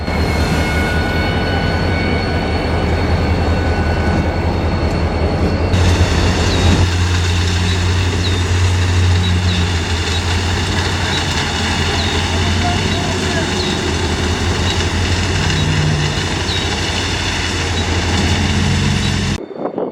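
A heavy freight train of orange locomotives rumbles steadily past at close range in South Dakota, heading to ballast track, a continuous low roar with metallic rattling, continuing for the whole stretch.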